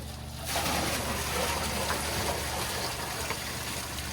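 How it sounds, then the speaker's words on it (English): Water poured from a bucket into an animal tank, a steady broad splashing gush that starts after a brief quiet moment and runs on evenly, close by. "And now I'm adding some more water."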